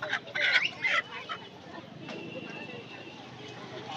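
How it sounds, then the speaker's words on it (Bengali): A local country rooster gives several sharp clucks up close at a crowded poultry market in Uluberia, followed by a softer murmur of market noise. "দেখুন এই মোরগটা একদম দেশি মোরগ আছে"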